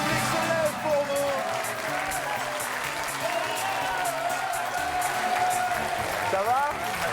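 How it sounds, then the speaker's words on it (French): Studio audience on a French game show applauding steadily and loudly, a dense continuous wash of clapping, with a voice speaking over it. "tout le monde vous applaudit"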